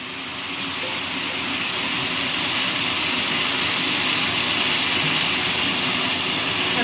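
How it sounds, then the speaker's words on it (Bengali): Water being poured into a pot of thin chicken curry on the stove, a steady broadband rushing and gushing that is loud and continuous throughout, with no talk. "হালকা একটু জল দে, হালকা, এমনি জল দে, এমনি জল দে"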